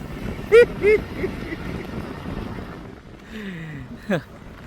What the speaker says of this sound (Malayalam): മുന്നിലുള്ള ബോട്ട് വെള്ളത്തിൽ കൂടി മുന്നോട്ട് അങ്ങ് പോയി